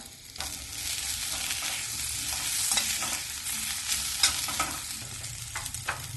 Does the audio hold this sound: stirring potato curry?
yes